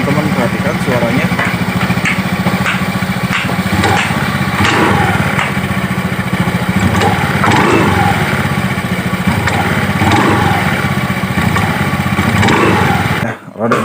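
A Honda Vario 110 scooter with a front-wheel and CVT rattling fault runs close by, its small engine droning steadily with faint repetitive clicking mixed in, and a voice talks over it before a brief cut near the end.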